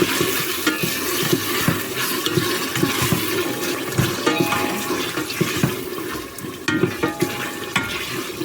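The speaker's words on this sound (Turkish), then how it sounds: "Şimdi kavuralım." Minced meat sautéing in a pan with onions, a steady loud sizzle and frying hiss with stirring clatter running throughout, no talking.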